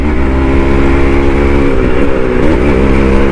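A Suzuki Shogun motorcycle engine runs close by, giving a loud, steady mid-pitched hum with slight pitch shifts as the throttle is blipped, and no voices over it.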